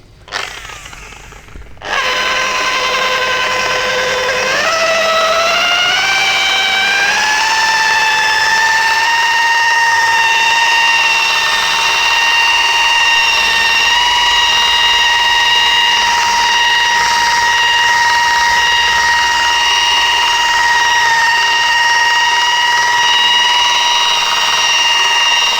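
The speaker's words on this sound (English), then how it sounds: "I will use the wool and the rotary" A rotary polisher fitted with a wool pad whirs against car paint, a loud sustained whine that starts abruptly after a brief quiet moment, then rises in pitch as it spins up and settles into a steady high tone.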